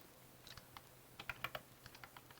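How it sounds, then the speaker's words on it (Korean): Quick bursts of typing on a computer keyboard, a dozen or so light, close key clicks in an uneven rhythm, quiet and free of talking. "자, 이번엔 키보드를 한번 써보겠어."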